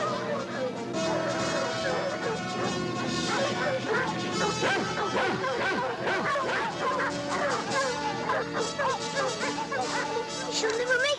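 Several dogs bark and yip as they chase a mother fox away from her den, with a dense bed of continuous music throughout and the barking mixed in near and loud.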